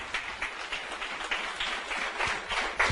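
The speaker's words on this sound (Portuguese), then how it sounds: "Merece ou não merece uma salva de palmas?" A small audience claps for a home water-mineralizing product during a sales presentation. The applause is light and scattered, a moderate patter of hands that continues without a break and without voices.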